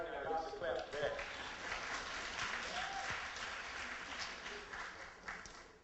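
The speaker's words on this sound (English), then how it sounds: "Y'all should clap for that." Audience applause rising after a call to clap for potholes being fixed, a steady wash of many hands through the whole stretch, with a voice faintly audible beneath it.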